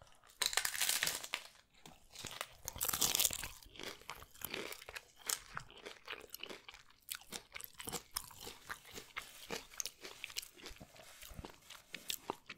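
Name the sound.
eating a crunchy Taco Bell Taco Supreme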